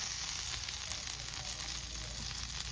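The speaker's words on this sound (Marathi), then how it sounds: "आता इकडे मम्मी बसून मस्त ही सुंगटा फ्राय करता." Prawns (sungta) fry in a pan at home, a bright, continuous hissing sizzle that stays loud and even throughout, with no voices.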